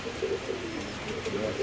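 Large pigeons at a market sale coo in soft, rolling low phrases close by, continuous across the short stretch with no talk.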